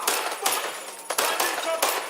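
Bursts of rapid automatic gunfire from a firefight in the video game Watch Dogs Legion, several sharp volleys at close range separated by brief pauses, loud and dominant.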